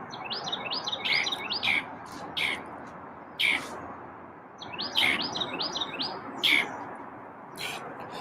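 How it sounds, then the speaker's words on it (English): Two birds chirp loudly in repeated bursts of sharp, high tweets, close by, with faint talk underneath. "we get like 2 birds going very loud"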